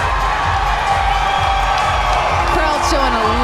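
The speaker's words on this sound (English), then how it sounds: "Crowd showing a lot of love to Frank right now" Fight crowd at a Georgia MMA event cheering and whooping for Frank, a continuous loud roar of many voices, with a commentator talking over it.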